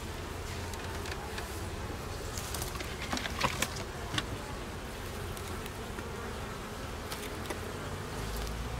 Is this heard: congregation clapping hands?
no